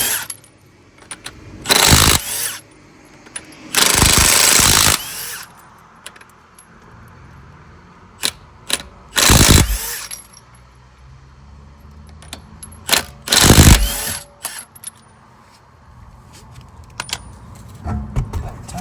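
Removing a wheel from a 2020 Toyota Camry with 21 mm lug nuts brings loud bursts from an impact wrench, spread irregularly, with metallic clinks and rattles of loose nuts in the gaps.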